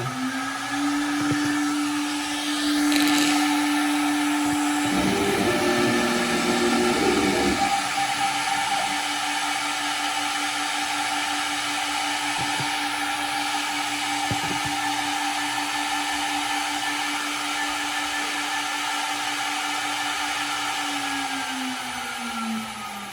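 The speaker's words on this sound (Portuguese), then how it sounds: "ele se movimenta, ele aciona o spindle, ele vai até o lugar e fica parado." A CNC router spindle spins up with a rising whine and holds a steady high tone for about twenty seconds, with a brief mechanical rattle of the gantry moving early on, then winds down at the end.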